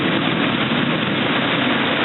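Heavy thunderstorm rain pours down steadily outdoors, a loud, dense, unbroken hiss with a low rumbling undertone and no voices.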